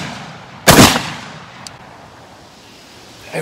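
A Tokarev TBP bullpup shotgun fires a single 3-inch magnum shell, one sharp, loud blast that decays quickly, followed by faint mechanical clicks and a softer noise near the end.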